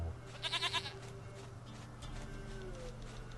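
A goat in the video game Witcher 3: Wild Hunt gives a short, shaky bleat of a few quick pulses, fairly quiet, over a low steady game background hum.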